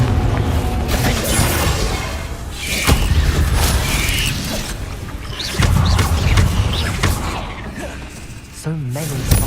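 Incendio and Confringo spell blasts in the video game Hogwarts Legacy, several loud booming bursts and crackling impacts one after another amid game effects, with a voice calling out over them.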